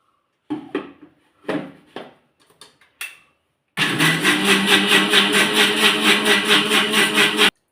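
A few knocks and clatters come first, then a kitchen blender whirs into a loud, steady, pulsing roar while blending pomegranate juice, running continuously to the end with no voices.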